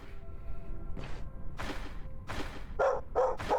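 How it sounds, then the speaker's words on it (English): In the video game Stoneshard, a little dog yaps several times in quick succession, its short, sharp barks clustering toward the end over low game ambience. "Little dog."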